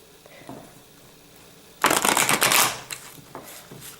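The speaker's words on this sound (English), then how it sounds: "I'm going to shuffle one more time." A deck of tarot cards is shuffled by hand, starting at about the midpoint with a burst of rapid, crisp riffling and flapping. It is close and fairly loud, trailing into a few softer taps after quiet handling noises.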